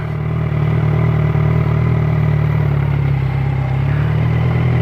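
A motorcycle engine runs steadily at a low idle-like rumble while the clutch is eased out slowly, close and continuous, with no talking.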